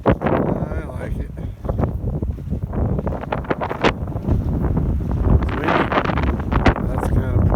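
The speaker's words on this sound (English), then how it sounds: "Unbelievable, the wind." Strong desert wind buffets the microphone in a steady, loud rumbling roar with gusty surges that continue throughout.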